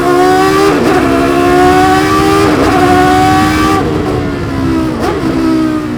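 A howling V10 Le Mans prototype race car accelerates hard on a twisty track, loud and close, its rising engine note broken by three crisp gear-cut upshifts at regular intervals.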